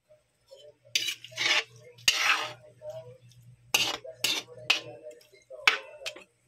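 Meat stir-fried with fish sauce in a pan, heard as a run of scraping, clattering stirring strokes in uneven bursts over a steady low hum, with a faint voice now and then.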